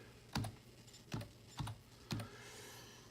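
Typing on a computer keyboard in a quiet room: four distinct sharp key clicks spaced about half a second apart, close and clear with no talk.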